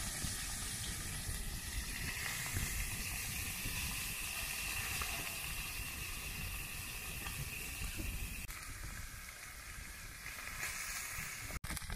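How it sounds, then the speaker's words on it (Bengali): Small mourola fish frying in hot oil give a steady, dense sizzle and hiss that holds close and even throughout, with no talking. "মাছগুলো দিয়ে দেবো, তেল আমার গরম হয়ে গেছে।"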